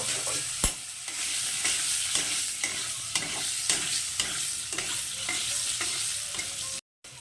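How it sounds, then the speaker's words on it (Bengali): Large cut potato pieces fry in hot oil on the stove: a steady, close sizzle with repeated stirring scrapes, then a brief cut-out near the end. "তো আলুটাকে একটু ভেজে নেব"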